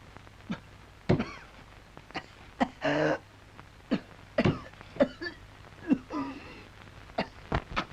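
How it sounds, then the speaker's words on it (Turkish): Repeated harsh coughs and throat noises come in short bursts, a dozen or so spread irregularly over quiet pauses, fairly close. "nasıl da hönk hönk öksürüyor"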